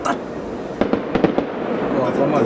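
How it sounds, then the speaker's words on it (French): Fireworks burst in a quick cluster of sharp cracks and pops mid-clip over a steady outdoor rumble, moderately near, with voices talking faintly around them. "vous avez prévu les feux d'artifice et tout"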